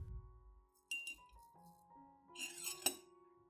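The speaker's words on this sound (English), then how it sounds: "I add 1 tablespoon of oats to a clean glass cup." A tablespoon of dry oats tipped into a clean glass cup, giving a few light clinks and a brief scattered rattle of flakes and spoon against glass, close and quiet.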